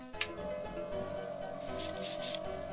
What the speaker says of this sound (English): Right, so compressor on again.